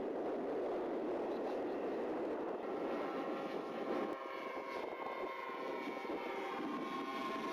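A radio-controlled B-17 Fortress model aircraft climbs in flight, giving a steady, fairly faint engine drone that holds level with little change in pitch throughout.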